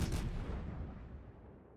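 Naval gun salvo from the battleship Des Moines in a naval battle game: one heavy, loud boom at the start that rolls away into a long fading rumble.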